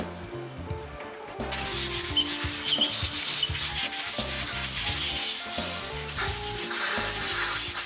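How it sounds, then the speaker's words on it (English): Fuel valve seating surfaces are ground by hand with a grinding mandrel and carborundum No. 500, a continuous gritty rubbing that starts abruptly and carries on steadily at close range, with faint tonal machinery hum beneath and no speech. "if necessary, grind the seating surfaces with a grinding mandrel and carborundum number 500"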